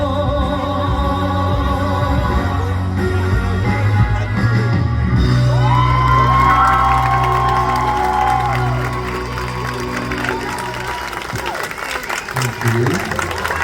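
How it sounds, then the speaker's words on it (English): A live concert audience claps and cheers loudly after a song, sustained applause with whoops and yells swelling over lingering music, then thinning toward the end. "Applause."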